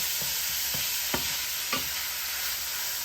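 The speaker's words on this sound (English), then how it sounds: "Just stir that around until they all" Fresh bok choy stir-frying in a pan, a steady hiss of sizzling oil with a few soft scraping stirs spaced across the short span.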